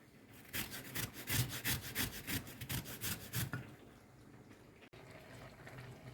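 Rapid, even rasping strokes grate lemon zest for a few seconds, then stop, leaving quiet room noise.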